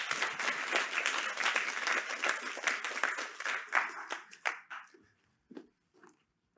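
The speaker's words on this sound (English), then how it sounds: "So everyone, give a small welcome round of applause." A lecture audience at a Tilburg University Studium Generale talk on video games gives a warm welcome round of applause. Dense clapping holds steady, then thins into scattered claps and dies out near the end.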